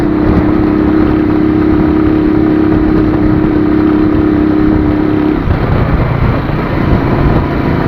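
A motorcycle that keeps stalling once it warms up runs loud and close, its engine holding a steady droning tone before the note abruptly shifts and roughens partway through.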